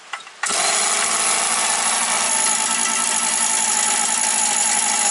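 Motor Sich 270 engine cranked to start, opening with a brief click and knock before a loud, steady broadband whine and rush takes over and holds without a break to the end.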